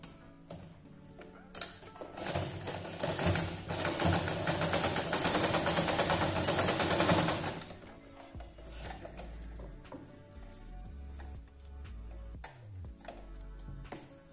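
A sewing machine runs in a fast, continuous burst of stitching on a patchwork fabric shopping bag. A loud mechanical whir lasts several seconds, then gives way to quieter, scattered clicks and handling noises.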